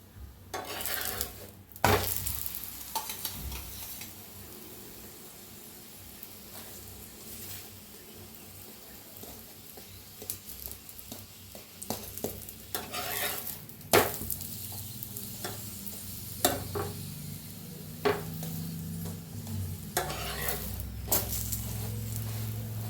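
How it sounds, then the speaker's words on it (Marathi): A chapati roasting on a pan with oil on both sides, with a low, steady sizzle and scattered scrapes and taps as it is turned, fairly quiet overall. "साईडने छान असं भाजून घ्यायचं चपाती"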